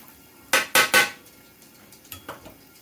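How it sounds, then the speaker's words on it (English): A metal lid goes down over chicken, shrimp and veggies on a hibachi griddle: three loud, close metallic clanks in quick succession, followed by a few softer clinks, with no talking. "I have a lid that I'm going to put over it just for a couple of minutes"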